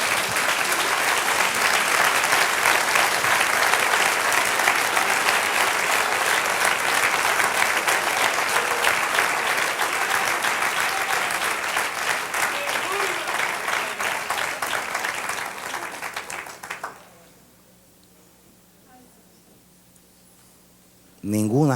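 A church congregation applauds loudly and steadily for about sixteen seconds, the clapping fading out before a quiet pause, then a voice speaks at the end.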